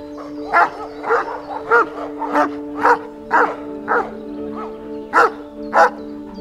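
A shepherd guard dog, a livestock guardian breed, barks in steady repeated bursts roughly every half second to second, fairly close and clear, with a faint constant tonal hum behind it.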